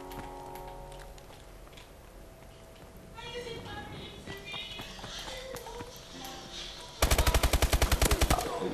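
Rapid automatic gunfire from a capture-the-flag video game match erupts loud near the end as a steady burst of evenly spaced shots, after a stretch of quieter game sounds and voices talking.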